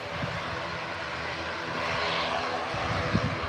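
An aircraft engine powers up during a go-around at Birmingham Airport, a rough, droning roar swelling slightly midway, with a brief knock near the end.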